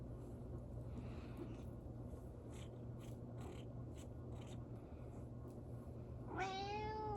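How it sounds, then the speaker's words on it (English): A domestic cat meows near the end, a short rising and falling call standing out over a quiet room hum. "I still have my cat though."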